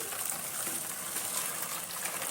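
Freshly boiled hot water poured into a bowl makes a soft, steady gushing splash, faint and continuous with no talking.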